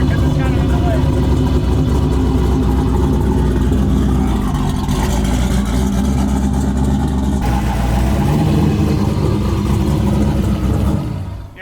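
A C6 Corvette engine pulls away from a standstill without throttle, a steady, loud mid-pitched engine drone that runs continuously throughout, with people talking over it.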